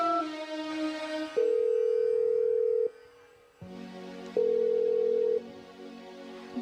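A telephone being dialed, with steady electronic tones switching between pitches, each held for about a second, then a pause and another run of tones, fairly clear and close.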